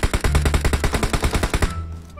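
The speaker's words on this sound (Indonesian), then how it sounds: "gua tembak aja lah nih Wok" Automatic gunfire in PUBG Mobile rings out as a loud, rapid burst of roughly fifteen evenly spaced shots over a second and a half, then cuts off into quieter game ambience.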